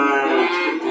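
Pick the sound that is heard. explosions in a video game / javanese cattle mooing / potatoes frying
javanese cattle mooing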